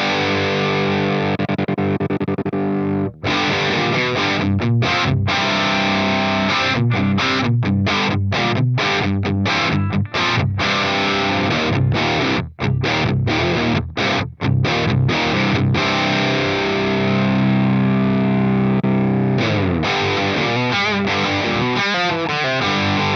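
Heavily distorted electric guitar through a Brit 900 amp model on an Axe-Fx Ultra, with loud chugging chords and riffs broken by short choppy stops and a few sustained ringing chords, played continuously with no talk.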